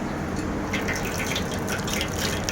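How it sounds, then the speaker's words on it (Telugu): Custard powder stirred into water is poured into milk while making badam milk, a steady gushing liquid stream, close and fairly soft, with no talking. "ఈ రెండు లీటర్ల నీళ్ళు రెండు లీటర్ల పాలకి ఇది యాడ్ చేయాలండి"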